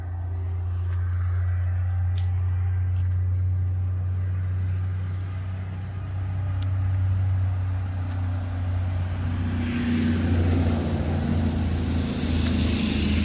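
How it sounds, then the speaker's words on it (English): Truck passing on a road near cottages, a loud low engine drone building as it approaches, then broad tyre and wind roar swelling as it goes by. "You just saw a truck going past."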